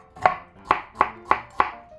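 Knife chopping carrot into decorative shapes on a cutting board for radish water kimchi, five crisp evenly spaced cuts close up with no talking.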